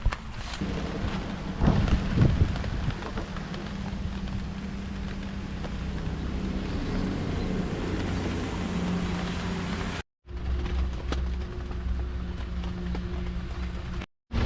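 Steady heavy rain pours down in a continuous roar with low rumbling thunder, heard around an auto-rickshaw campsite, with a brief cut partway through and no one speaking.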